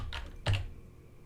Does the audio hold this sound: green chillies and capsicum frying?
no